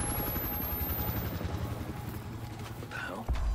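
Helicopter in the video game Battlefield Hardline, a steady rapid rotor chop with a droning engine throughout, fairly loud, cut by a brief sharp sound near the end.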